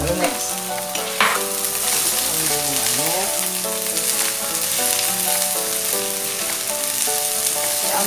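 Garlic and onions sizzle loudly in hot oil for pancit canton, frying steadily close up, with stirring scrapes and a melody playing underneath.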